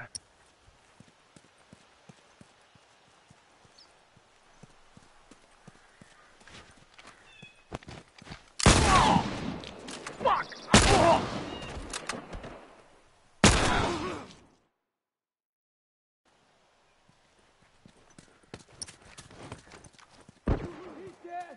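Rifle gunfire in The Last of Us multiplayer: three loud, harsh bursts of about a second each in quick succession, cutting through quieter footsteps and shuffling, followed by near-silence and then faint movement again.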